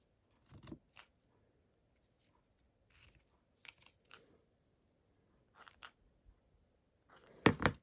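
Scissors trim the end of a ribbon bow on a handmade thank-you card, a few quiet close snips spaced apart in near silence, ending with one sharper, louder cut.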